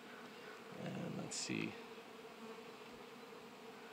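Honeybees hum faintly and steadily in an open backyard hive during an inspection, with a low buzz throughout, a few louder passes of bees close by and a brief spoken remark.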